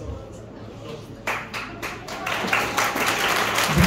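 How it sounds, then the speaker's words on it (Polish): Applause at a live concert in Białystok, starting with a few scattered claps and swelling into fuller, louder clapping over a low background hum. "Brawa i oklaski."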